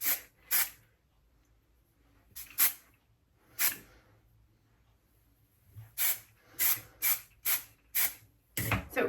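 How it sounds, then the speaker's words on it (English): Hairspray misted over a short pixie cut in a string of quick hissing bursts, a few spaced out at first, then a rapid run of short sprays close to the mic, with no talking. "And now I will just spray it in place."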